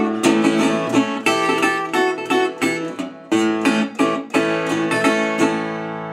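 Acoustic guitar playing a Delta blues sequence, a steady rhythmic strum with repeated bass notes and bright plucked chords, close and alone without talk.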